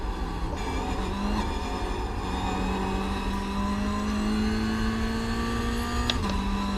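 A race car engine in the sim game iRacing drones loudly and steadily, its pitch slowly climbing along a straight, then dropping sharply near the end as a gear changes.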